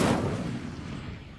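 The Incendio fire spell cast in Hogwarts Legacy makes a single sharp burst that flares up and then dies away into a soft, fading whoosh.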